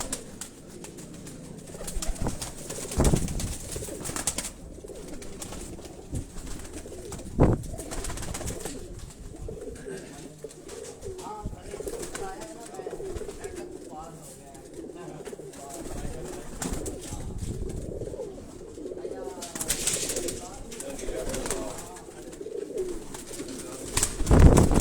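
Pigeons coo repeatedly from a Karachi rooftop loft of migratory pigeons, soft throaty calls close by with occasional wing flaps and faint background voices.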